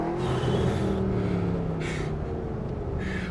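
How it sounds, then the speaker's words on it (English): A Mercedes SLS AMG V8 engine rumbles deeply and close by, its steady low drone shifting slightly in pitch, with brief breathy bursts over it. "Amazing engine power, great belching V8 noise."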